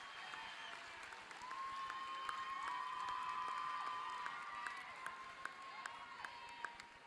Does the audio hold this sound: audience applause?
yes